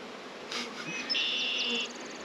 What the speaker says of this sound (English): the bees are just sort of hanging out on this newspaper